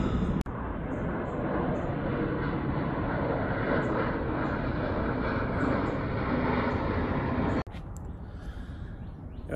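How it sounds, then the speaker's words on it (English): A steady broadband roar of an airplane passing overhead, fairly even in loudness, then cutting off abruptly near the end. "An airplane going by."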